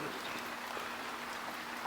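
Rain falls by a garden pond as a steady, dense hiss of drops, soft and continuous throughout, with no voices.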